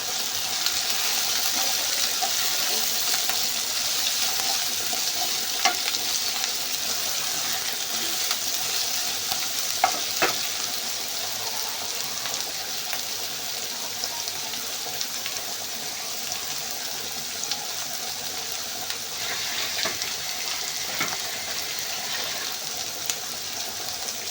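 Onions frying in a pan with ginger paste for chicken thokku biryani, a steady soft sizzle running throughout with faint clinks.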